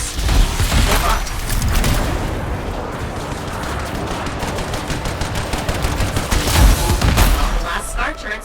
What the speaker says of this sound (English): Looks like the Sentinels are fighting scars and turrets